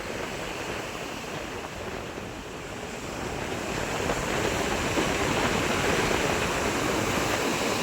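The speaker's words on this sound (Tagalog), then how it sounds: "lalong palaki ang alon na yan. Yan, bali alon ng habagat na lang yan" Sea waves on a beach driven by the southwest monsoon, a steady broadband roar of surf that builds slightly louder midway and stays continuous, mixed with wind rush and no talking.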